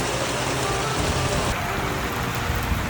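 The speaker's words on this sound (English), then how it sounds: "it rained so much and so quickly that we were stuck underneath our tent" Heavy rain pours onto a market tent, a loud, continuous roar of drops drumming on fabric close by, unbroken throughout with no voices.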